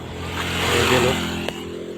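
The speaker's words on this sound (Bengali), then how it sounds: "পিছন দিয়ে একটা মোটর সাইকেল আছে" A motorcycle passes on a rural road in Malaysia, its engine rising and falling across two seconds at moderate distance, with no talk over it.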